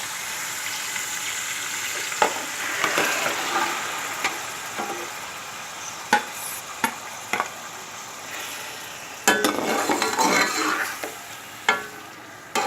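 Marinated chicken with onions cooks in a pan, a steady sizzle broken by repeated sharp scrapes and clanks of stirring, close and fairly loud with no talking.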